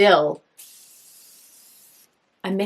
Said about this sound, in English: I still am completely in love with my Morphe setting spray